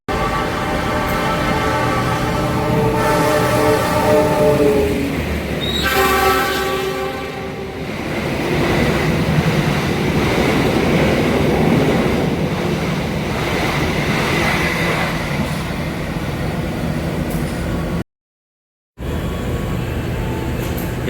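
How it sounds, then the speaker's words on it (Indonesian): The Taksaka express train roars past up close through Kutoarjo station without stopping, loud and sustained, with a horn blast early on and rattling wagons rushing through. "kita tunggu kereta api Taksaka melintas langsung stasiun Kutoarjo"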